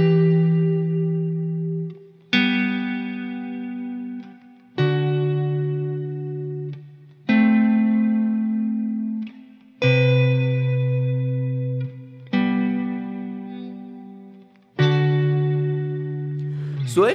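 A chord progression from Inception plays as a sequence of sustained, slowly decaying chords, each struck about every two and a half seconds, with a processed, effects-laden tone and no talking.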